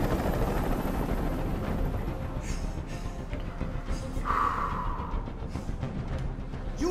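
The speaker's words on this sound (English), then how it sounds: "Tell that helicopter to get out of here." A helicopter's low, steady rotor thrum fills the background of the game Detroit: Become Human, joined by a few brief higher whooshes and a short tonal blip.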